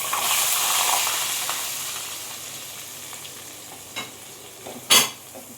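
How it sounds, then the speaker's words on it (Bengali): Three sliced onions fry in hot oil with whole garam masala and a bay leaf for chicken curry, a close, steady sizzle that eases off, broken by a couple of sharp spoon clinks near the end. "এবার পেঁয়াজগুলো দিয়ে আমি 4-5 মিনিটের মতো ভালো করে পেঁয়াজটা ভেজে নেব।"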